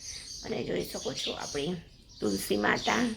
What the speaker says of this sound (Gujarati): જો મસ્ત મજાની ચકલીઓ બોલી રહી છે અત્યારે